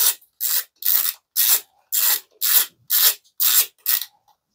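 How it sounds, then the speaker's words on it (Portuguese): A 6 mm screw is tightened on the BMS of a 4S LiFePO4 battery pack, heard as nine evenly spaced, close rasping strokes of the tool separated by short silences. "Então é só arrumar o parafuso, aqui no caso é um parafuso 6 milímetros."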